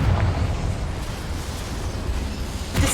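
Confringo spell explosion in the video game Hogwarts Legacy: a steady, rumbling roar of blast noise that carries through the whole moment, with a sharper burst flaring near the end.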